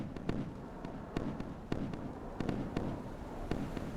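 Flak fire in the naval combat game Sea Power, a Baltic Sea clash between German navies, heard as sharp scattered bursts popping every half second or so over a steady rumbling background, without talk.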